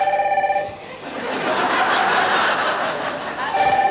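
An old-style telephone bell rings in short repeated trills at the start and again at the end, with audience laughter and chatter filling the gap between rings on a 1994 Dutch television show.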